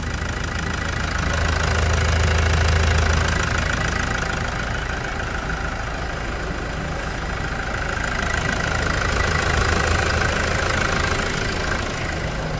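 A Toyota Hilux single-cab pickup with a newly replaced engine idles steadily with a rough, knocking rumble, loud and close, holding the same rhythm throughout with no talking.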